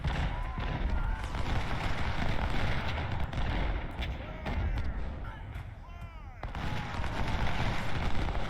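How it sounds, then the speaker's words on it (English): Artillery fire in the Civil War strategy game Ultimate General: Civil War, a dense, continuous battle din of booming cannon and crackling musketry, with someone talking over it in places. "Still taking a beating with the artillery out there"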